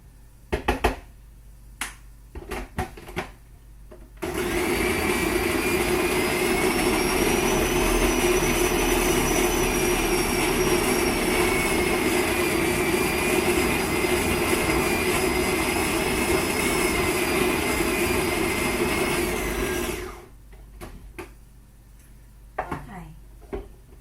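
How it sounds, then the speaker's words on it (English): A food processor blends a raw apple pie crust mixture: the motor starts abruptly into a loud, steady whirring roar, holds for about sixteen seconds, then cuts off. A few clicks and knocks come before and after. "You can see there in my processor, it's just binding together nicely"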